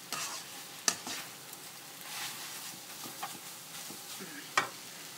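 Mama instant noodles stir-fried with chicken and basil in a pan: a soft sizzle broken by sharp clacks and scrapes of a spatula tossing the noodles, close and fairly quiet.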